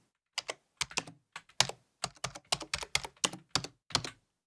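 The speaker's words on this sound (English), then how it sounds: "Let's try the second keyboard." Computer keyboard typing from a sound effects library pack: a dozen or so crisp, close keystroke bursts in an uneven rhythm, some grouped in quick pairs, heard alone with no talk.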